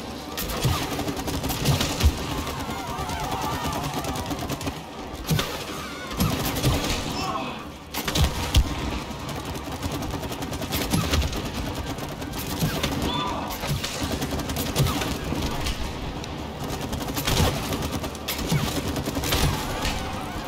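Rapid, sustained gunfire from a co-op session of the video game It Takes Two, with bursts of shots running almost continuously under game music and effects for about twenty seconds while players talk.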